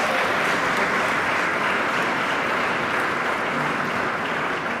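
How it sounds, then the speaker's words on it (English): A steady burst of crowd applause for Labor fills a large hall at a State of the State address, dense and even for about five seconds with no voice over it. "Let's give a round of applause to Labor"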